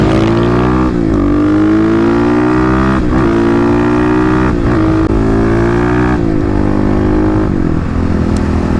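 Kawasaki KLX250/351 dirt bike ridden hard, its single-cylinder engine loud and close, rising through repeated revving accelerations with brief dips at each gear change, no voices.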